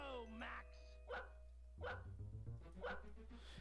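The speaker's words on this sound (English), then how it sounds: "if you press X while playing as Max, you can get him to bark" Max the dog barking in The Grinch video game on PS1, several short sharp barks in separate bursts, fairly clear, with a low steady hum underneath and talk alongside.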